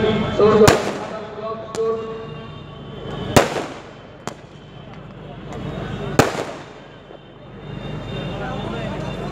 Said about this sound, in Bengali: আর আজকে এই আতশবাজি